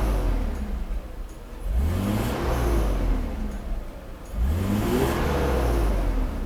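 A Mercedes W124 300C-24 with an M104 engine, just repaired after a fuel distributor fault, revs twice from idle, each sharp climb holding briefly before falling back, close and loud, with no talk.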